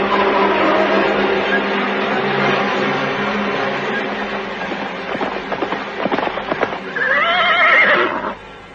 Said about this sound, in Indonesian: Sebentar kemudian mereka sudah menunggangi kuda meninggalkan istana Majapahit.